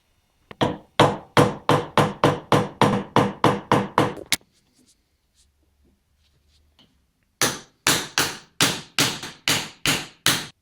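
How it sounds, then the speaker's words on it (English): Steady hammer blows punching the bearing out of a Toyota Denso alternator casing without a press, a fast run of about fifteen sharp metallic knocks, a quiet pause, then another run of about eight blows, close and loud. "We have to now punch the bearing out of the casing."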